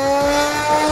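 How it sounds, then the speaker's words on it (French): Flywheel motors on a Nerf Ultra Amp blaster spin at speed, a steady high whine with sharp tonal bands, loud and close, holding constant with no talk. "Regardez, je lance mes moteurs."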